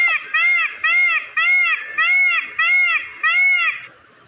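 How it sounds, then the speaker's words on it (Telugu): Peacock calls played from an animal-sounds phone app: six loud, harmonic wailing cries in a steady rhythm, each about half a second long, with no talking over them. "అలా అంటుందంట నెమలి."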